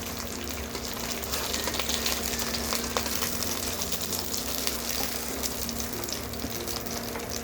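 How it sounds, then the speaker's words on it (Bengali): Pomfret fish frying in a pan of hot oil, a dense, steady sizzle with crackling spits, close and continuous throughout. "তো বাকি বেঁচে মাছটাকে আমি ভেজে নিচ্ছি।"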